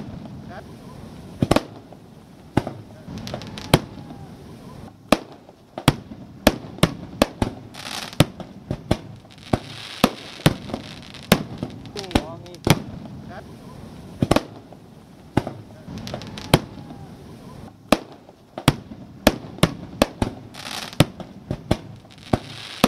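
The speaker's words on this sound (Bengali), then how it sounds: "হাজারো মানুষ উপভোগ করলেন এই আতশবাজি" An evening fireworks display at Cox's Bazar celebrations, watched by thousands, sends out sharp, irregular bangs and pops, some near and loud, over a low crowd murmur.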